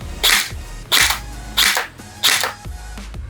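A Maxim Defense PDX gel blaster fires four sharp, evenly spaced shots close by, each a punchy pop with a brief mechanical rattle, with no talking over them.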